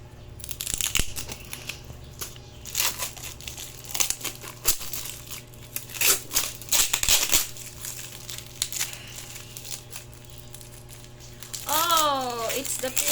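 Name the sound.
unwrapping a package wrapped by mother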